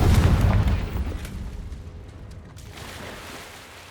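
Confringo spell explosion in the video game Hogwarts Legacy: one loud, deep boom right at the start that rumbles and fades away over the next few seconds.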